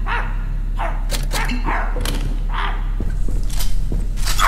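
Dog barking repeatedly in a public park, several loud sharp barks with thumps and a scuffle close by, no talking.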